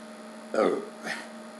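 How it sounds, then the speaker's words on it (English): A person lets out a burp: one short, fairly loud belch, then a softer second one a moment later, over a steady electrical hum. "That was a pretty good burp."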